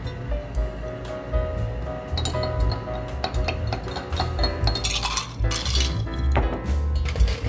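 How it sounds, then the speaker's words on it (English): Black tea and sugar syrup being mixed for a drink to pair with avocado milk foam, with steady clinking and clattering of utensils and containers close by, quick chinks scattered throughout, no talking. "Now we mix some sugar syrup and black tea."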